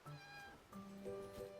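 An injured cat in the video game Love and Deepspace meows twice in clear, drawn-out rising and falling cries, close and fairly soft with no talking over them.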